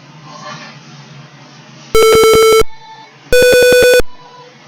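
A buzzer in an IoT keyboard-tune project sounds two loud, sustained electronic tones of under a second each, separated by a short pause, with faint background noise in between.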